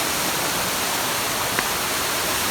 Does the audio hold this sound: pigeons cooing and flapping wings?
no